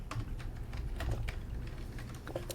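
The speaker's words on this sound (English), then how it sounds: "Typing with one hand." Someone types one-handed on a computer keyboard, soft close clicks and taps arriving in an irregular patter at low volume, with no voices.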